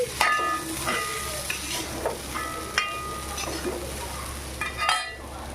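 Potato stir-fry sizzling in a pan in a home kitchen, with steady frying crackle under intermittent stirring clinks and scrapes, close and moderately loud.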